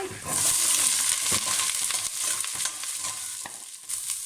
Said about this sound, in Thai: ต้องใช้หม้อแบบนี้ผัดนะ จะอร่อย